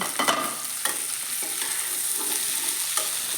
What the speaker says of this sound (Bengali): এবার এর মধ্যে কেটে রাখা কুমড়োগুলো দিয়ে দেব